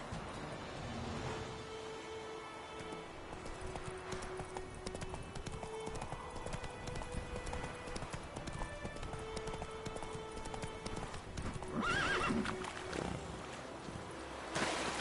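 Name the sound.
horse Roach trotting and neighing in video game The Witcher 3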